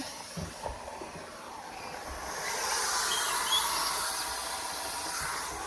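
A steam mop releases a continuous rushing hiss of steam that swells and holds steady for several seconds, close and fairly loud, with a few faint clicks and handling sounds before it starts.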